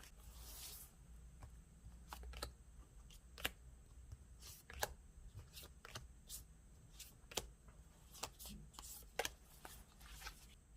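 Tarot cards shuffled for a reading, faint close papery riffles and scattered sharp taps and slaps spread irregularly over the stretch against a quiet background, no talking.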